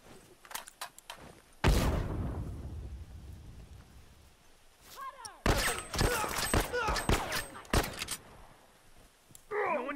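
A grenade blast and gunfire in the video game The Last of Us: a heavy rumbling explosion rolls out early, then a cluster of sharp, loud shots and bursts follows, with brief voices in between.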